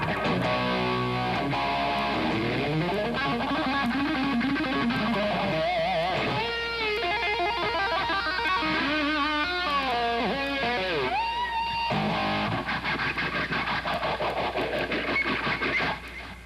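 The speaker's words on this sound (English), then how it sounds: "Take the little phase shifter and turn the knob all the way down so the speed goes as slow as it'll go." An electric guitar runs through a phase shifter set to its slowest speed, its loud sustained notes and chords swirling with a gradual sweeping tone that carries on without a break and with no speech.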